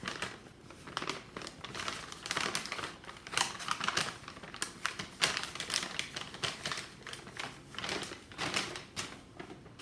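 Sheets of paper being folded at the corners for an art-class shape and form project, giving steady close crinkling and creasing rustles with sharper snaps throughout and no talking.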